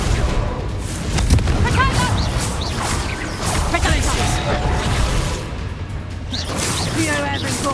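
Spell blasts and magic booms from the Hogwarts Legacy video game crackle and thump amid busy battle effects, with character voices speaking over the din throughout.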